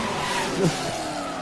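A drift car at the Red Bull Car Park Drift event in Muscat slides through a corner amid tire smoke, a continuous broadband engine roar with a short squealing tire screech rising midway.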